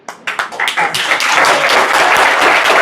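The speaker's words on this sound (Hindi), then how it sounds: "तो अपने लिए एक बार ताली बजाओ, अपने लिए।" An audience of students in a residential coaching-campus classroom breaks into applause, starting with a few scattered claps and quickly swelling into loud, sustained clapping close by.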